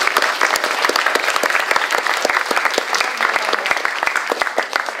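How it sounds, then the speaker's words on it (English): Audience applause after a talk at the Ukrainian Institute in London: a steady, dense burst of many hands clapping close by, sustained for about five seconds with no voices. "just like to a round of applause for John."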